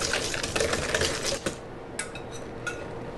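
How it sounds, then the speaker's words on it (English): A wire whisk beats hot vanilla cream into egg yolks in a bowl, rapid clicking taps in quick bursts, close and fairly loud, pausing briefly midway then resuming. "I'm just going to continue whisking that up."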